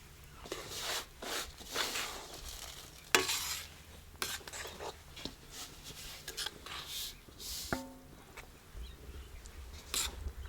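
Flour roasting in hot ghee over low heat for adaddiya pak, stirred continuously with soft scraping strokes over a faint, steady sizzle, fairly quiet and close throughout.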